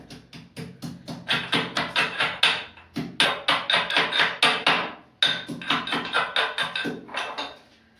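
Garlic and ginger are pounded by hand, a rapid series of close, sharp thuds in an even rhythm that runs through several bursts with a short pause between them.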